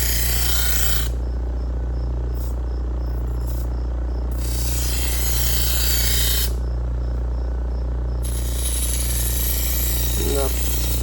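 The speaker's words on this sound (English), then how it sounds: "Scotch-Brite wheel and remove that burr" Scotch-Brite wheel spinning against a bread knife to buff off the burr, a loud steady grinding whir with bursts of hissing contact, plus a faint rattle near the end.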